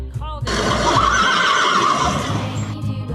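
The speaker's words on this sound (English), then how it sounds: "Horse." A horse gives one long, loud whinny that fills almost the whole stretch and rises and falls in pitch, preceded by a brief higher sound.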